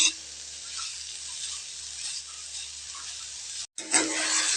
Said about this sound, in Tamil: இந்த நெய்யில் நல்லா வதக்கிக்கலாங்க. காய் நல்லா நெய்யிலேயே வதங்கட்டுங்க